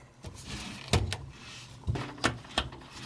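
Screws and a metal plate being removed from a Subaru gear shifter: a handful of sharp, separate clicks and metallic clunks, close by, with no talking.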